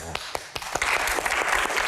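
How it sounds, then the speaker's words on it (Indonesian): An audience at a Q&A session breaks into applause, a few scattered claps at first that quickly swell into brisk, steady clapping across the room. "Kenapa tepuk tangan Bang Hensat?"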